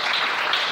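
A church congregation applauding together in praise, a steady dense wash of clapping held at even loudness throughout, with no voices standing out above it.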